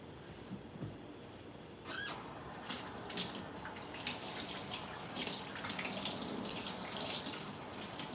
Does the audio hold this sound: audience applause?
no